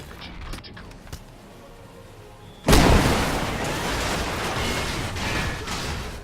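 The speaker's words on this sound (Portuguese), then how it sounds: "pegar uma bazuca e gastar munição num casebre de telhas só para ver a estrutura inteira desmontando e os pedaços voando para todos os lados" A bazooka round slams into a tiled shack in Crysis, a sudden loud boom at mid-clip that spreads into a long, roaring rumble of collapsing debris after a quieter stretch of ambient game sound.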